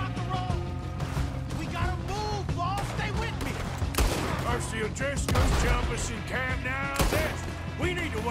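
Sawed-off shotgun blasts in Red Dead Redemption 2, set in a town shootout. Repeated loud, sharp shots are spread throughout and mixed with other gunfire, crashes and game music, while voices talk over them.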